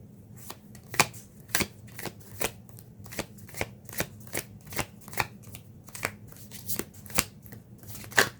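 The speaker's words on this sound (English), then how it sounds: "these cards also don't want to shuffle very well" Cards are shuffled over and over nearby, sharp riffling bursts repeating at an uneven pace with quiet gaps between.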